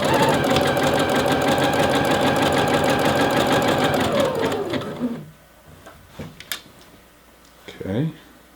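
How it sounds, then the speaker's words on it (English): A sewing machine runs fast and steady, stitching an elastic waistband onto fabric with a loud, rapid mechanical chatter. It slows and stops around the midpoint, leaving light handling clicks and rustles of the fabric. "And now I'll be sewing the other eighth."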